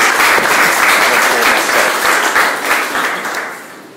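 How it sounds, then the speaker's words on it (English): An audience at a music photography seminar gives a round of applause, dense and loud clapping that holds steady before tapering off toward the end. "So please give them a round of applause"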